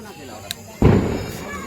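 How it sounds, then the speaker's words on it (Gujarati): A mirchi bomb firecracker set off outdoors for Diwali, a single sudden loud bang followed by a rumbling decay, heard close with a brief click just before. "તો મિત્રો આ છે મરસી બોમ્બ."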